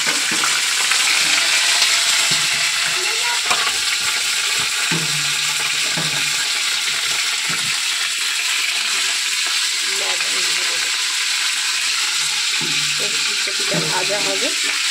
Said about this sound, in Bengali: ফুলকপিটা ভাজা হবে।